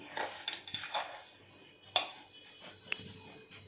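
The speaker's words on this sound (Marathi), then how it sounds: "अगदी थोडं थोडं घालायचं आहे आणि मिक्स करून घ्यायचं आहे।" Semolina being stirred into milk in a bowl, with light scraping and clinking of a spoon against the bowl in a few short bursts at close range, with no talk.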